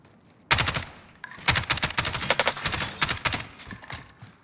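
Rapid automatic gunfire in Call of Duty Warzone, a dense close burst of shots starting abruptly and rattling on for several seconds, loud throughout.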